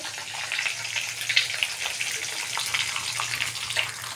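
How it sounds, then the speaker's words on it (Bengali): Fish frying in a pan gives a steady, close sizzle with crackling spits and bursts of hissing oil. "কিছু মাছ ভাজা হয়ে গেছে"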